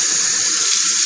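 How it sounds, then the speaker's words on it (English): Tap water runs into a sink as hands are washed during a shaving routine, a steady close hiss of flowing water with no pauses. "I'll wash that off my hands."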